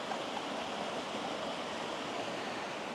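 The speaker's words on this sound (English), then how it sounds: "Oh, there we go, a cascade." Water tumbles down a small garden cascade of little rapids in Madeira, making a soft, even, continuous rush heard alone at a modest distance.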